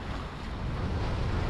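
Rough ocean waves and wind surge around a sailboat mid-Atlantic on an ocean crossing, with competing wave groups. The roar of water and wind is loud, steady and close, with no voices.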